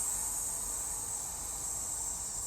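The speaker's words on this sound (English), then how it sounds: "So when you hiss, so like this" A steady, unbroken hissing breath for singing breath control, a bright sustained sibilant stream held close and even throughout.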